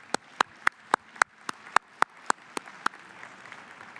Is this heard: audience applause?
yes